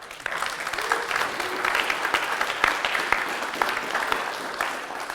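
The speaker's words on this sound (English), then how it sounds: "Can I get a round of applause for that?" An audience at a personal talk breaks into applause, a sustained round of clapping with sharp individual claps standing out over a few seconds.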